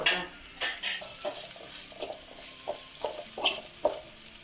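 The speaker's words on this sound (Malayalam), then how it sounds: "ഇനി നമുക്ക് നന്നായി ഇളക്കി കൊടുക്കാം" Onion with turmeric and salt stirred in a pan for a beetroot and bean thoran, a spoon scraping and clinking against the metal in a string of separate strokes over a faint sizzle, no talk.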